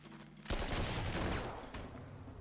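Artillery fire in the World War II strategy game Panzer Corps 2: a sudden loud blast at about half a second, followed by a dense, rumbling barrage that slowly fades.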